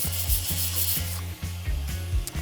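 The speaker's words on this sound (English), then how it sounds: "you vigorously brush it," Bronze resin casting being brushed vigorously with rapid, rhythmic rubbing strokes, close and fairly loud over a steady low hum.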